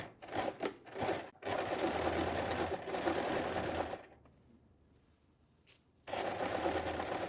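A sewing machine stitches a kebaya in bursts, running steadily for a few seconds, pausing in near-silence, then starting again, close and clear with no talk.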